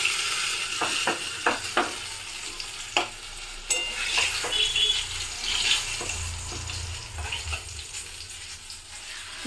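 Aloo dum, a vegetarian potato curry flavoured with hing, frying and being stirred in a pan, with a steady sizzle under repeated scraping and clinking of a spatula.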